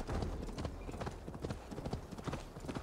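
Horse hooves gallop in a fast, steady clip-clop rhythm in Assassin's Creed Valhalla, close and even, with no voices over them.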